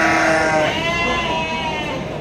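A young Garut sheep at a livestock market gives a loud, close, wavering bleat that fills the whole moment, with a second bleat overlapping under a busy crowd murmur.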